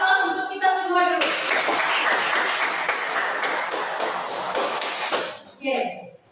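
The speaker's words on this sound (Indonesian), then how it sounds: "Jadi kita berikan aplaus untuk kita semua dulu" A classroom group breaks into brisk applause that lasts several seconds, dense clapping rising after a teacher's voice and fading as talk resumes.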